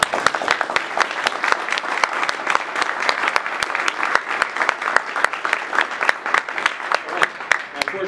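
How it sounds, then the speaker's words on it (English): Audience applause closing a Power-Con 2012 convention panel on the 1987 Masters of the Universe movie: a steady, dense wash of clapping from a sizable crowd, with sharp individual claps standing out throughout. "We want to give them all a big round of applause."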